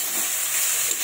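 Red amaranth greens fry with onion in a pan, giving a steady, close sizzling hiss throughout the short moment.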